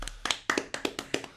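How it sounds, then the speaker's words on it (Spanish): Applause from a small group, a brief burst of sharp, distinct hand claps in an irregular rhythm, close and fairly quiet, with no talk over it. "Un fuerte aplauso, por favor."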